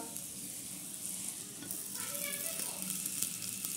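Methi paratha made from wheat flour fries in a thin coat of oil on a pan, giving a steady soft sizzle with faint scraping and spatula touches throughout.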